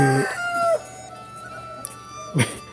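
Rooster crowing nearby in a loud drawn-out call at the start, then quieter clucking and a second brief crow near the end, with no talking.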